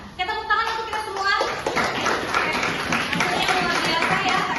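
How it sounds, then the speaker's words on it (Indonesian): Students in a classroom break into a burst of hand clapping, a dense patter that starts after a spoken line and continues steadily at moderate volume, with voices mixed in. "Kita tepuk tangan untuk kita semua"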